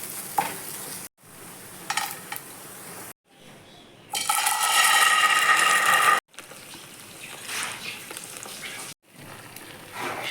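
A spoon stirring and frying a salted, turmeric-seasoned breakfast mixture with fried nuts in a pan, with scraping and sizzling in choppy bursts broken by short silent gaps, one stretch noticeably louder and brighter.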